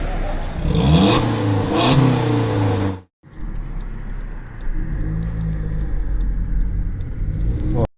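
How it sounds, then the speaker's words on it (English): A Volkswagen Golf MK6 1.4 TSI with its rear exhaust box deleted revs loudly, with rising and falling engine tones, a brief cut, then a steady deep rumbling idle close up. "Does it sound loud enough? Give it another rev."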